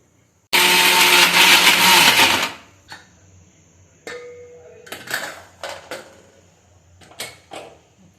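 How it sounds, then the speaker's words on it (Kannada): A kitchen mixer grinder whirs loudly for about two seconds, grinding cumin, onion, garlic, chili and fresh coriander for honagone soppu bassaru. Scattered clinks and knocks of the jar and utensils follow. "ಇದನ್ನು ಹಾಕ್ಕೊಂಡು ರುಬ್ಕೊಳ್ಳೋಣ ಕೊತ್ತಂಬರಿ ಸೊಪ್ಪು ಸ್ವಲ್ಪ ಆ್ಯಡ್ ಮಾಡ್ಕೊಳ್ಳೋಣ ಸ್ವಲ್ಪ ರುಬ್ಕೊಬಿಡೋಣ"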